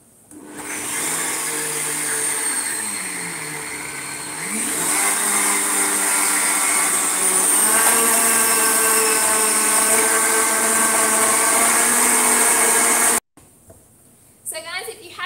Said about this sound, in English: Blend this up so it'll make a bit of noise.